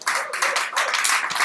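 Church congregation clapping in praise during a French-language worship service, a dense, close burst of many hands applauding together for a second and a half.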